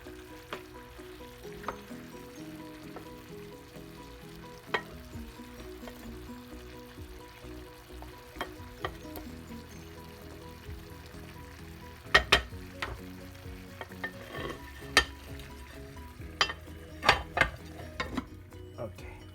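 Adobo chicken simmers in a pan with a low, steady bubbling sizzle, punctuated by sharp clinks and scrapes of stirring that grow busier in the second half.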